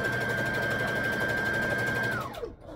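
Sewing machine stitching fabric for a wrap skirt, a steady whirring hum running for about two seconds before slowing down and stopping.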